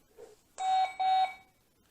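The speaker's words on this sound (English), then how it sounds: "And I heard the beep." A Blurams Dome Lite 2 A31 pan-and-tilt smart camera gives two clear, identical electronic beeps in quick succession to confirm a scanned QR code during setup, in a quiet room.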